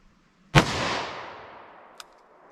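A single sharp gunshot from a .357 Magnum revolver with a 2-inch barrel, loud and close, followed by a long fading echo and a small click a moment later.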